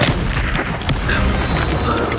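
An Incendio fire spell bursts in Hogwarts Legacy as a loud, dull boom with a whooshing roar of flame that fills the short moment, close and forceful.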